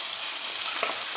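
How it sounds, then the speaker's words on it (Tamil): Chopped onions sizzle steadily in hot oil in a pan, a dense continuous fry with a faint stir midway, no voices. "வெங்காயம் சேர்த்து நல்லா வதங்கிடணும்."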